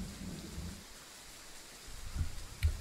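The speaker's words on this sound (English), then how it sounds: "So you really can hear the rain and the thunder." Steady rain and low rumbles of thunder fill a spring-morning scene in the Train Sim World 4 game on the Edinburgh–Glasgow route, faint overall, with a couple of heavier thunder thuds toward the end.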